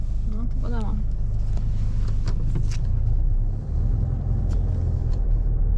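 A car drives along with a steady low engine and road rumble heard from inside the cabin, while people talk over it.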